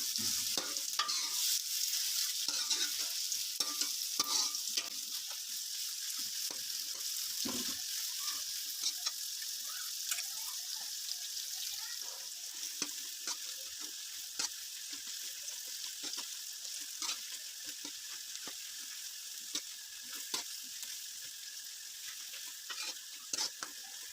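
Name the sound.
onions sautéing and being stirred with whole spices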